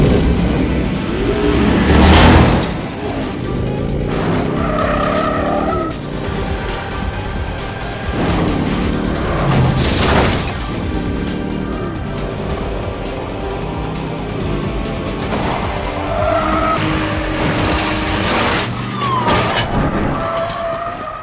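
Motorcycle chase in a city action scene, with engines revving and surging under loud dramatic music and impact effects, sustained and busy throughout.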